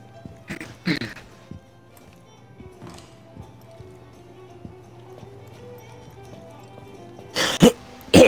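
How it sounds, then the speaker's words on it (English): A person coughs during an online game session, with a few sharp coughs near the start and a louder cluster toward the end over quiet background noise. "You've been coughing a lot lately."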